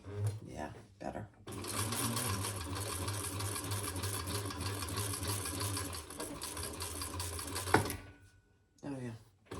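A sewing machine runs in one long, steady burst of stitching around the corners of a crossbody bag, loud and close, with brief stops and handling noise before and after.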